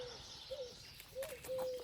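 Birds call in the early morning at a quiet hot-spring temple complex in Rupite, Bulgaria: a few faint, brief whistled notes and a soft coo rising over a hushed, distant background, with no talking.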